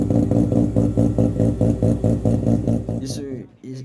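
A rotary-engined car in Japan idles close by with a lumpy, rapid, rhythmic pulsing burble, then cuts out abruptly near the end.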